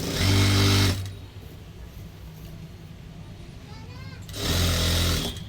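A sewing machine stitches a blouse in two loud, fast bursts at start and end, with quieter handling noise and a pause between them.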